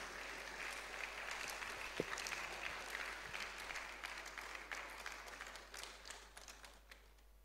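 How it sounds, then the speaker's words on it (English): Audience applause at a university zoology department valedictory programme, steady and fairly faint throughout, a soft continuous patter of many hands with no talking over it. "a round of applause"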